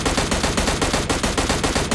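Loud rapid automatic gunfire from the PUBG video game, a close, dense run of evenly spaced shots filling the moment with no pause.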